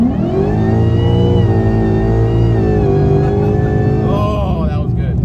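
A supercharged 2018 Ford Mustang GT accelerates hard, its loud engine climbing steadily in pitch through a long pull before easing off near the end, close and dominant throughout.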